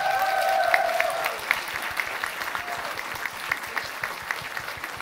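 An audience at a community cultural centre stage applauds, dense at first and then thinning into sparser, distinct claps that fade, with a voice briefly heard over the start.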